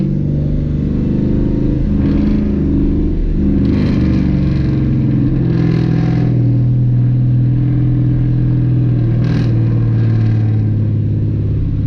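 A Dodge Challenger's engine drones loud and constant from inside the car as it accelerates around Charlotte Motor Speedway, the pitch rising steadily with a few brief gear-change dips, dense road rumble underneath and no voices.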